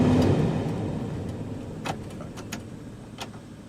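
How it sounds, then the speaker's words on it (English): The heater blower fan of an old Buick, running as a steady, fairly faint whirring hum with a few small clicks and rattles on top. "Turn the key on, and the blower magically works. It runs."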